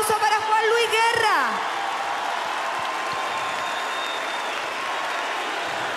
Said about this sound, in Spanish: Este es el aplauso para Juan Luis Guerra.